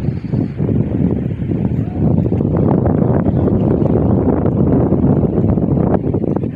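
Steady, loud wind buffets the microphone beside the Pacalat River in Mangatarem, Pangasinan, with a continuous rushing roar and no talking.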